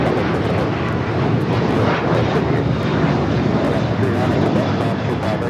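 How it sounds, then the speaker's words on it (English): An Alaska Airlines Boeing 737-900ER takes off from Los Angeles airport, bound for Portland, with a loud, continuous broadband jet roar that stays strong and close throughout. "Taking off Alaska Airlines 578, taking off to Portland on the 737-900ER."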